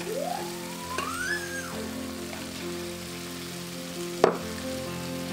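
Sliced potatoes frying in about two tablespoons of hot oil in a pan for a paneer gravy, with a steady close sizzle throughout and one brief clatter near the end.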